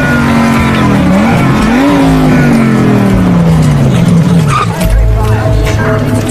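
Car engine revving hard and accelerating in an action-film chase scene, loud and close, the pitch sweeping up and down with tire squeal and rushing noise, mixed with other movie sound.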